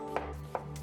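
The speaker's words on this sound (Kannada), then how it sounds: "ಕೂಲ್ ಆದಮೇಲೆ ಅರ್ಧ ಈರುಳ್ಳಿನ ಚೆನ್ನಾಗಿ ಸ್ಲೈಸ್ ಮಾಡ್ಕೊಳ್ಳೋಣ" A knife slices through half an onion for masala dosa filling, making two quiet, evenly spaced cuts against a board.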